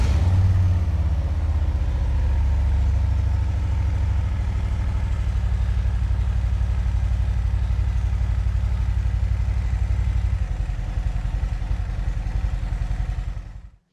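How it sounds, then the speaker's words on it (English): A Harley-Davidson motorcycle engine starts up and settles into a steady, loud, low-pitched idle with a throbbing rhythm, running alone for over ten seconds before shutting off abruptly. "So let me start the bike, kind of show you this."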